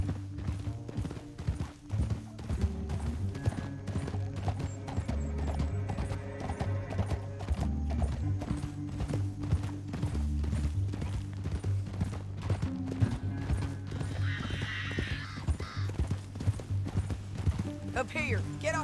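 Horse hooves clip-clop steadily in Red Dead Redemption 2 over a busy soundtrack of music and effects, with a voice speaking partway through.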